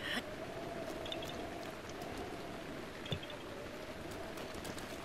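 Steady rain in Zelda: Breath of the Wild, a constant soft hiss of falling drops that runs evenly throughout, with a faint tone and a couple of small taps underneath.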